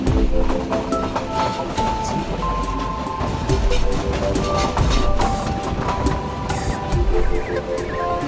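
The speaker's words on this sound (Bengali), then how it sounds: "আর এদিকে যাচ্ছে একটা ট্রেন" A train rolls past on the line between Sylhet and Srimangal in Bangladesh, a steady loud rumble with rattling wagons and clickety-clack from the rails that carries through the whole stretch.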